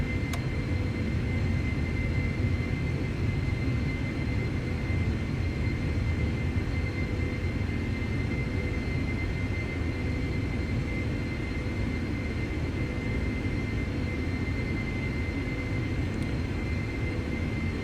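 A PMDG 747 airliner cruises in the Prepar3D flight simulator, a steady, dense engine and airflow rumble holding even and continuous with a faint high whine, no voices over it.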